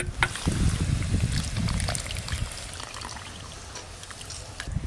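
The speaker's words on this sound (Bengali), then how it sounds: "নারকেলের দুধটা এই যে এইভাবে খুব ভালো করে বের করে নেব" Grated coconut squeezed by hand to press out its milk, liquid trickling and pouring in wet spurts, loudest at first and then thinning to a softer dribble, close and alone.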